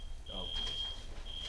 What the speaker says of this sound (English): There was a fire alarm, and we all got scared.